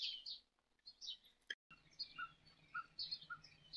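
Outdoor birds chirp and tweet on a cool morning in several short, high, moderately distant calls, scattered irregularly over a quiet background with a soft insect-like hum.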